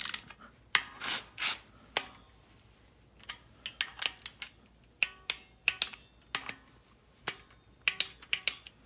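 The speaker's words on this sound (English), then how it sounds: "Already got my torque wrench set." A torque wrench set to 106 inch-pounds tightening the bolts of a Holley 302-2 oil pan on an LS-swapped G-body, heard up close as a run of sharp ratcheting clicks and snaps in irregular bursts.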